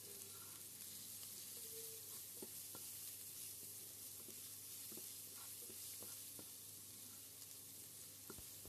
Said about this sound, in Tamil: அதில் நம்ம துருவி வச்சுருக்க இஞ்சி பூண்டை சேர்த்து நல்லா வறுத்துக்கலாம்